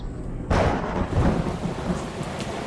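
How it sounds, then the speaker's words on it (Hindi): A thunderstorm at sea in a drama sound effect: a sudden loud thunder crash breaks in, then a rolling rumble over steady heavy rain. "हम गलती से तूफान में फंस गए।"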